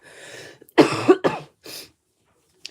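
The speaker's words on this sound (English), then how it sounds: "I'm still gonna cough, but not as bad as I was." A person coughs in a short burst of several harsh coughs, close and fairly loud, followed by a brief pause and a faint final sound.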